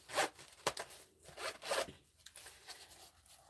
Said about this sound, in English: Unzip it.